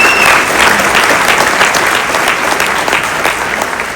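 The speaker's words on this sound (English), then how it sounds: "Let's just give them a round of applause." Loud, sustained applause from the crowd at a Mercer County State of the County address, a dense wash of clapping for several seconds that eases slightly toward the end.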